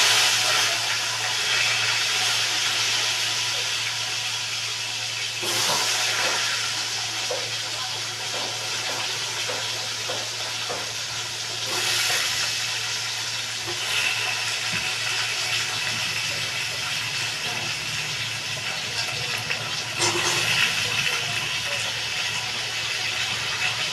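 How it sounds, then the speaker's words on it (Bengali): Potatoes fry in oil for a rohu fish curry, a continuous close sizzle broken by scattered pops and sharper crackling bursts every few seconds. "আলুগুলো একটু ভালো করে ভেজে নেব।"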